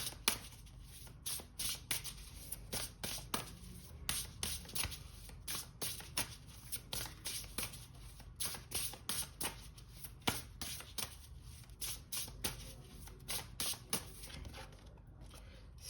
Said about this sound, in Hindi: एक और कार्ड निकालते हैं।